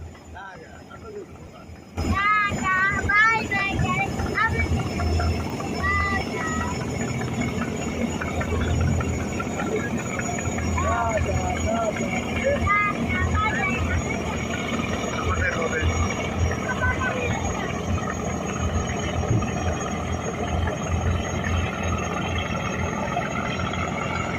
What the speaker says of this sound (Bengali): আমাদের ট্রলার ছেড়ে দিয়েছে